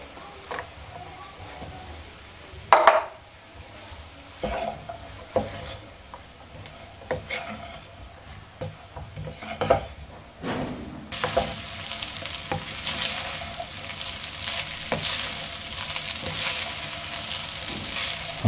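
Chinese fried rice with green onion being stir-fried in a pan, with sharp scraping strokes of a spatula early on, then a steady loud sizzle and frying hiss that fills the second half.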